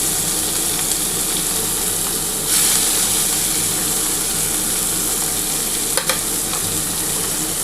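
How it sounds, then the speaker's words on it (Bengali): Chopped onion frying in a pan for a spiny gourd curry, a steady, loud sizzle with faint stirring scrapes and a sharp clink of the utensil near the end. "এই বড় একটা পেঁয়াজ দিয়ে দিলাম।"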